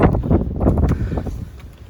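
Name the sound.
wind during a snowstorm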